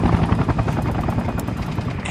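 Enemy helicopter in the game Sniper Ghost Warrior 2, a loud, close, rapid rotor chop that thumps steadily and fills the whole clip without speech.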